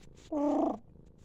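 A cat being scratched gives a short, close, tonal purring trill lasting about half a second, alone against a quiet room.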